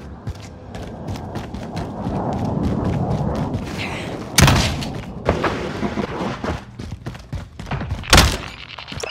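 Call of Duty Warzone precision airstrike explosions: several heavy booming impacts with sharp broadband blasts, two especially loud strikes standing out over a dense rumbling battle background.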